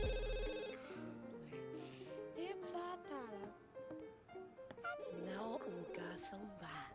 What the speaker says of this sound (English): Oh, the phone's ringing, of course.